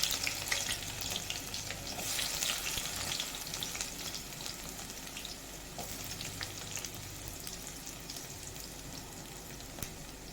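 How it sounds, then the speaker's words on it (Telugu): Thinly sliced onion frying in hot oil in a kadai until brown. A continuous, fairly quiet crackling sizzle with scattered pops plays on its own. "ఈ ఆనియన్ అట్లా బ్రౌన్ కలర్ వచ్చే వరకు కూడా మనం వేగించుకోవాలండి"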